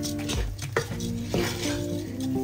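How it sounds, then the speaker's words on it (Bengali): Rice being stir-fried in a pan for hilsa polao, a dense steady sizzle with gritty rattling scrapes and a few sharper clinks of the utensil against the pan, close and loud, with background music tones. "কেমন যেন চালের একটা ঝনঝন শব্দ হচ্ছে, তার মানে চালটা আমার খুব সুন্দরভাবে ভাজা হয়ে গেছে।"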